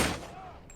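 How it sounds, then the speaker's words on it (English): A single loud gunshot cracks in BoneWorks VR while time is frozen, sharp at the onset and quickly tailing off into a faint ringing decay. "So, what happens if I shoot them while time is frozen?"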